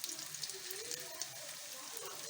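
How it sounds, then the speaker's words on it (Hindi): Seekh kababs fry in a hot pan with a steady, bright sizzle and crackle throughout, close and fairly loud with small spits and pops, and no talking over it. "ये सारे फ्राई होंगे"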